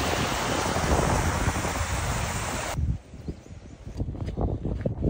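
The river at Slippery Stones in the Peak District rushing in a loud, close, continuous wash, which drops sharply to a softer, fainter babble with gusty wind noise midway.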